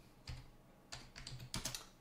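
Quiet computer keyboard typing on a Manjaro Linux desktop: three short bursts of clicky keystrokes, the last a quick flurry, heard close and soft in a quiet room.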